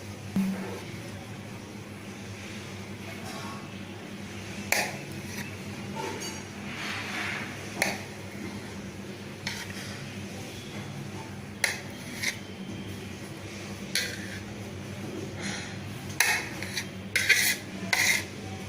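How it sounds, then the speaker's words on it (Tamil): A knife chops boiled eggs into small pieces on a board, producing a series of light, uneven taps and scrapes over a low steady background hum, growing more frequent toward the end, with no talking. "இந்த மாதிரி வேக வச்ச எக்கு ஃபுல்லாத்தையும் கட் பண்ணிக்கோங்க"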